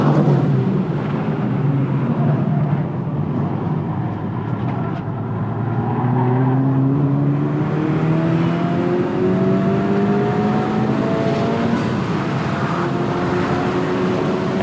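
Turbocharged 2023 Honda Civic Type R FL5 on a racetrack, engine holding high revs with rising pitch sweeps through gear changes, loud and steady inside the cabin throughout, no talking.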